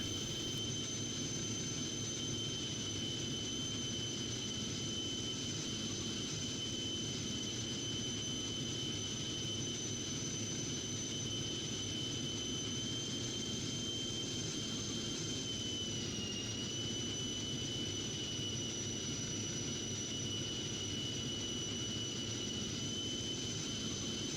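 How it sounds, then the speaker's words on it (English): Jet fighters from the Strike Fighters 2 flight game produce a steady, faint engine drone with a thin high whine, holding evenly for the whole stretch without a strong swell or fade. "More of the wingmen coming up and zooming by."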